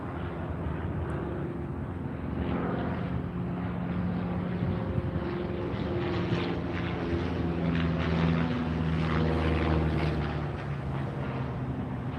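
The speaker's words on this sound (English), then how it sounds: "There's an aircraft in a pattern." A propeller aircraft flying a pattern near a downtown airport, heard as a steady, continuous engine drone overhead at moderate distance, holding level throughout without any speech.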